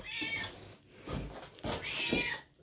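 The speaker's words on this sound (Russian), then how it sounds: "Первым долгом котят кормлю." Hungry kittens in a village house meow at morning feeding time, two or three close, insistent high cries spaced across a couple of seconds, with faint household noise between.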